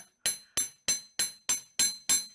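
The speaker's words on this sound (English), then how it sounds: "I'm just going to hammer the edges here" A hammer strikes a wire-wrapped heart pendant frame on a metal block, seven sharp ringing metallic taps at an even steady pace, close and clear with no talking.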